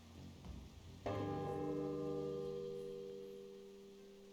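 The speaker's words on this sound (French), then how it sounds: "On va voir ce qui se passe si je sonne la cloche." A single bell struck once in the stealth video game Shadow Tactics, ringing out with a bright, sustained tone that slowly fades over several seconds, heard alone with no talk.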